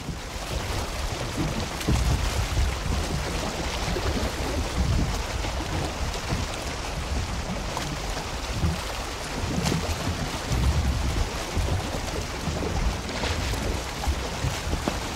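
A small sailing boat in Valheim moves over open water with steady wind rushing and waves churning, a continuous dense roar with gusting swells throughout.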